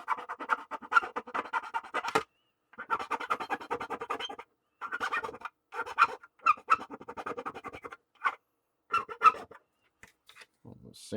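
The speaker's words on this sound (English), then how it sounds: "Sanding down on the inside." Thin racer file rasping against the inside of a USS Reliant model kit part, short bursts of scratchy strokes in uneven rhythm with brief pauses, close and fairly quiet.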